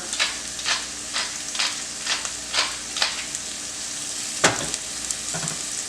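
Onion and jalapeno fry in a pan with a steady crackling sizzle, broken by repeated bursts of louder spattering and stirring at close range, with no voices.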